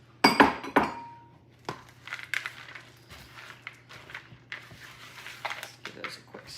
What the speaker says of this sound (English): Give those a quick stir.